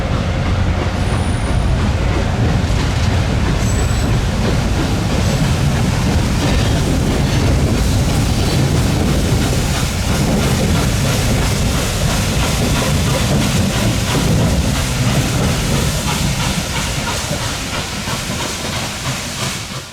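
Norfolk & Western 611, a J class steam locomotive, rolls slowly across a bridge. Dense, loud rumble and hiss of wheels and steam carry continuously throughout, with faint high squeals over the top.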